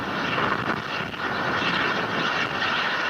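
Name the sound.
H-IIA rocket in flight after launch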